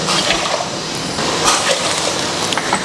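Water pours and gushes steadily into a cooking pot for rasam, a continuous splashing rush that stays loud for a few seconds.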